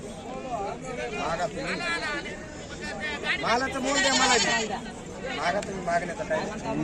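Several goats bleat repeatedly in wavering cries over a busy background of people chattering at a crowded market.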